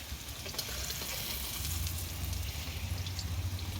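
Steady crackling sizzle of potatoes and carrots frying in hot oil, fairly quiet and continuous with small pops throughout.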